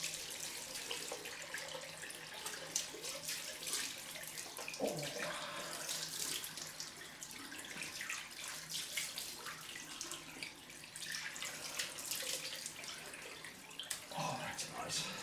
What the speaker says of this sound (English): let's try with the cold water first.